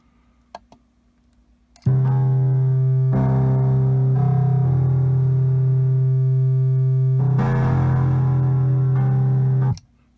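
An Empress ZOIA synth module plays a sustained FM-modulated sine tone that starts abruptly after a couple of faint clicks. Its timbre shifts in steps as the modulation changes, then it cuts off cleanly near the end.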